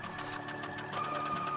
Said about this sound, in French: toute une couture tout autour du périmètre de ce demi-cercle